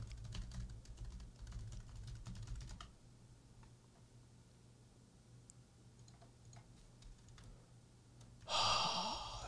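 Rapid clicking keystrokes on a computer keyboard clatter in close bursts for the first few seconds, then thin out to scattered taps, ending with a sudden loud breathy rush.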